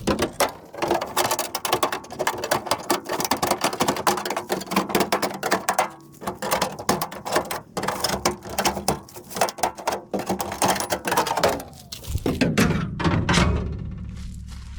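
Pry bar working plastic liner panel clips loose from the wall of a Chevy Express van, giving a dense run of close, irregular clunks, snaps and scraping knocks that continue steadily before easing into a lower rumble at the end.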